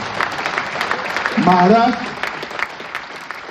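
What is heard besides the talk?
audience applause at a speech by a politician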